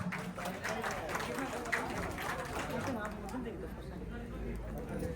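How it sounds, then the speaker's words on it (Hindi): An audience at a school annual function at an inter college claps steadily in a sustained round of applause, with voices talking over the clapping. "तो सभी लोग अपने माता पिता के नाम पर एक बार जोरदार तालियों से उनका सम्मान करें।"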